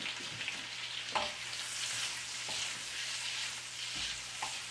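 Butterflied shrimp sizzle steadily in a pan over medium heat, a dense crackling hiss running throughout with a few sharper pops and scraping stirs, no voices.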